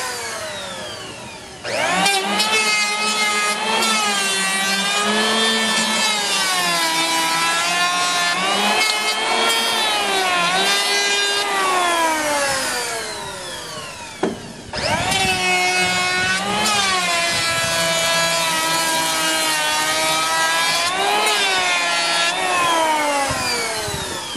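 A power planer trims the edge of a wooden door coated in about 40 years of paint. It gives two long, loud passes of high, whining cutting noise separated by a short pause, with no voices.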